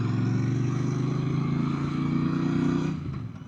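A 2025 Royal Enfield Bear 650 motorcycle engine runs steadily during a test ride, giving a loud, continuous throbbing drone that fades slightly toward the end. No voices.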